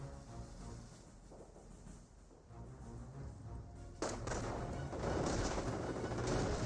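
Small arms fire and explosions from a Company of Heroes battle rumble at moderate distance, a dense continuous mix of shots and thuds that grows louder with a sharp burst partway through.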